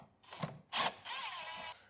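A wrench working loose the 12mm nut on the battery cable of a Mitsubishi Evo X, heard as a few short metallic scrapes and one sharper rasp, close and quiet with no talk.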